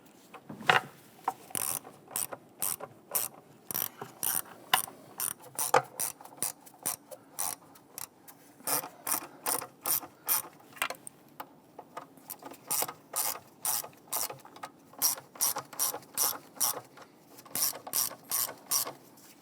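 A ratchet tightening intake manifold bolts on a 2011-2021 Jeep Grand Cherokee 3.6L V6, close-up clicking in repeated short bursts separated by pauses, fairly quiet overall.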